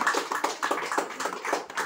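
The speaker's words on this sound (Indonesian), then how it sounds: "tepukan paling gemuruh untuk diri sendiri." Audience applause at a corporate company meeting, a dense steady patter of many hands clapping for the full stretch with no voices over it.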